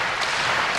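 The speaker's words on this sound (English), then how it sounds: "Crowd trying to urge him on." Crowd at an NCAA Division I men's volleyball match, Hawaii against Long Beach State on senior night, cheering and clapping as a broad steady roar behind a server.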